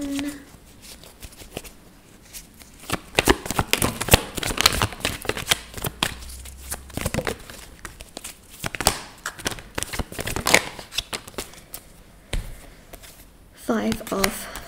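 A deck of tarot cards is shuffled by hand in repeated bursts of papery riffling and flapping, close and lively. Short pauses fall between the bursts, and a voice can be heard at times.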